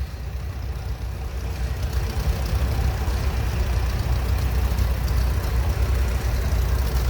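A 1940 Farmall Model B tractor engine rumbling past in an antique tractor parade, a steady loud low chugging idle with no talk.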